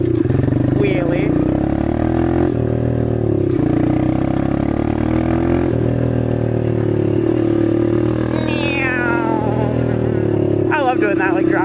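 An engine with a stock exhaust drones loudly and steadily, its pitch rising and falling through revs, on an off-road machine, quad or dirt bike, held in a low first-gear wheelie in a backyard; a voice talks over it.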